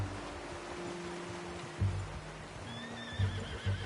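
A horse in the Red Dead Redemption 2 video game lets out a clear whinny over a low droning background, with soft hoof thuds and a couple of low snorts toward the end.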